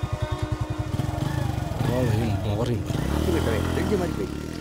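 A motorcycle engine starts with a quick run of rhythmic cranking pulses, catches and revs up, then settles into a running drone while voices talk over it.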